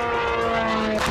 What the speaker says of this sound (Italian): È il suono dei droni kamikaze iraniani che sorvolano le città ucraine.